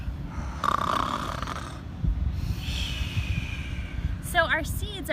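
Children and adults imitate a loud snore with their voices, drawn-out rasping snorts repeated under a continuous low background hum.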